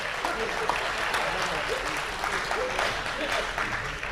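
A crowd at a Hindi poetry recitation breaks into loud, sustained applause, a thick continuous wash of clapping that fills the whole stretch without pause.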